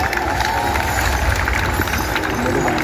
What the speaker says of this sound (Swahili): tuwapigie makofi bana